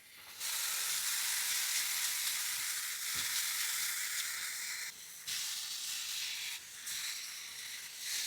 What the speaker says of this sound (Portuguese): E aqui estão nossos cubos. Vou deixar aqui grelhando um pouquinho.